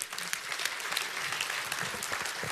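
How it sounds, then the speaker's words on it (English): A seminar audience breaks into sustained applause, dense clapping filling the room at a steady level with no speech over it. "Give everybody a hand."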